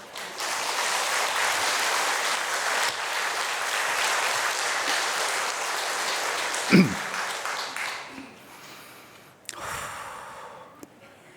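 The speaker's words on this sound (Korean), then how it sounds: "여러분들 박수를 세게 쳐야 돼요." A church audience applauds steadily for several seconds, the clapping fading out near the end with a few breaths and rustles.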